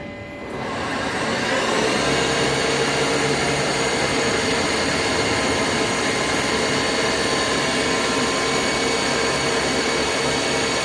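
A Falcon 1000 five-axis CNC machine runs with a loud, steady mechanical whir and a high tonal whine. After a brief quiet start it holds at an even level throughout, with no talking.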